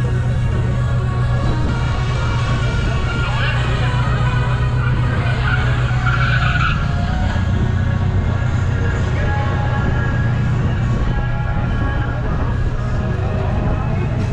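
Turbocharged Volkswagen Gol drag car at a drag racing event at Tarumã, with a loud, continuous engine roar and tire noise throughout, close by, under crowd ambience.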